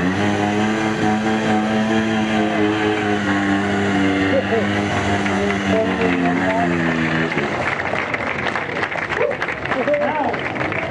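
A trials motorcycle revving hard in sixth gear while spinning a tight, smoky circle on sticky rubber, a loud continuous engine whine that holds steady, then breaks into rougher, choppier roaring near the end.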